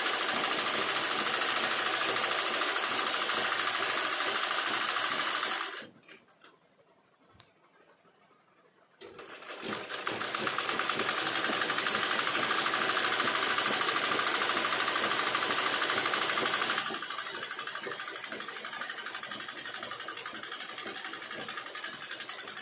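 A sewing machine stitches fabric in a steady, loud, close whir that cuts out for a few seconds mid-way, then starts again and runs on at a slightly lower level.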